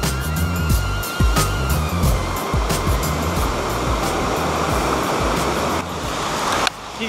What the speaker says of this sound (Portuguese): Se você vier a Rondônia, conheça a Cachoeira dos Gregolis.